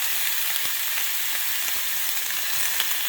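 Very fatty cut of cold pork sizzling in a dry pan with no oil, for Mexican pork chile verde: a loud, steady, crackling fry hiss with small pops throughout and no talking.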